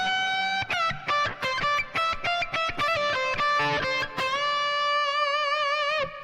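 A distorted electric guitar plays a slow phrase from a solo: a quick run of picked notes, then wide bends and a long sustained note with vibrato, played alone and loud.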